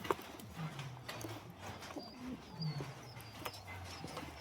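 Pet pigeons cooing indoors, several soft, low, rolling coos repeating at a gentle pace, close but faint against a quiet background with occasional small clicks and no voices.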